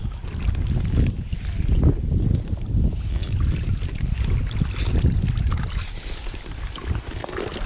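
Strong wind blowing while fly fishing on a rocky stream, a steady loud buffeting roar across the microphone with gusting swells and water murmuring underneath.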